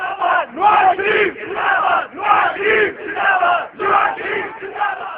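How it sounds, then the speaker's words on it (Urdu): Party workers chant slogans in rhythmic crowd bursts, a steady call-and-response pattern of loud massed voices repeating every second or so. "لیگی کارکن نواز شریف زندہ باد کے نعرے لگانے لگے۔"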